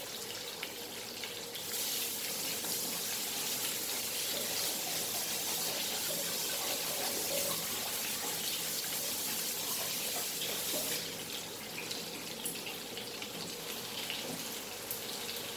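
Brussels sprouts are washed under a running kitchen tap, a loud, steady gush of water splashing close by for the whole stretch, briefly easing near the start and end, with no talking.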